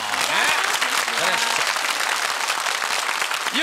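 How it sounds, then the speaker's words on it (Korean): Studio audience applauding on a Korean KBS TV family game show, a full, sustained burst of clapping with voices talking and exclaiming over it. "박수 주세요"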